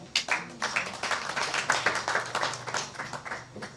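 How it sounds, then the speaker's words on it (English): Crowd clapping at an office inauguration event in Kumba, a fairly quiet stretch of many hands beating in a loose, uneven rhythm with distinct sharp hits, heard alone without talk for nearly four seconds. "Clap for yourself"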